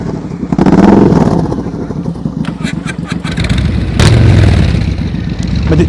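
A motorcycle engine revs in uneven throttle bursts during advanced slow-speed riding practice, fairly close and loud, with a voice speaking over it.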